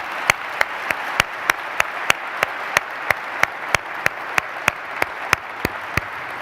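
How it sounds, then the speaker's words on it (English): An audience applauds to welcome Michael Lewis at a talk, a continuous crowd of clapping with one loud close clapper standing out in a regular, evenly spaced beat. "we're going to give Michael Lewis a huge, big round of applause for accepting our invitation"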